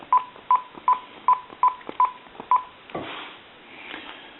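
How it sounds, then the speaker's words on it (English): A GE 25881EC telephone sends DTMF dialing tones, eight short evenly spaced beeps in quick succession, clear and close, followed by quieter handling noise. "Now I want to dial some numbers."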